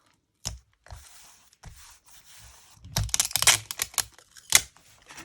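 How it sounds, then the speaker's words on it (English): Piece of tape added by hand while making paper ephemera for a journal: a few close, crisp rips and sticky taps, sharper clusters toward the end, with no talk. "I'm gonna add a bit of tape."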